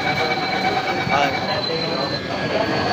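A Mumbai underground metro train at Santacruz station gives off a continuous rumble with a faint high metallic whine, a steady close wash of rail noise throughout.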